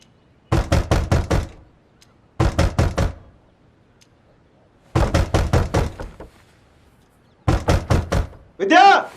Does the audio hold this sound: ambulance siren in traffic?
no